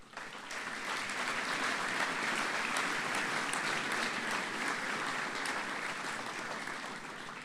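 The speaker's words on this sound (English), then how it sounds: "boys, I think you can give them a round of applause" An audience at a college speech night applauds the school's management and staff in a steady, even wash of clapping that holds for the whole stretch at moderate distance.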